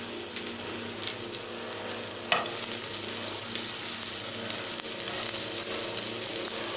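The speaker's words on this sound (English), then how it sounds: "I'm just going to fry up the onion" Chopped onion frying in a hot pan gives off a steady, close, continuous sizzle and crackle with no talking.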